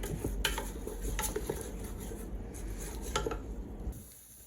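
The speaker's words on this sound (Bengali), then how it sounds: "এগুলোকে একটু ভালো করে নাড়তে হবে" A utensil stirs spices into pulao rice in a pot. Repeated close clinks and scrapes of metal against the pot sound over a soft sizzle, fading slightly at the end.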